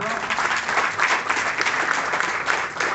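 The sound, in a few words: audience applause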